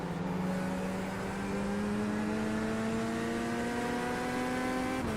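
A Mazda MX-5 race car in iRacing hums along with a steady, rising engine drone held at moderate revs through the corners, continuous and alone for the whole stretch.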